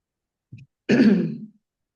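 A short, soft throat sound followed by a louder, rough cough-like throat clearing, heard close and alone.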